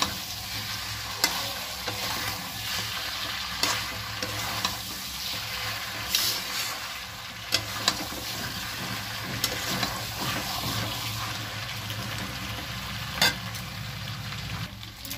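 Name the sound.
potatoes being stir-fried in hot oil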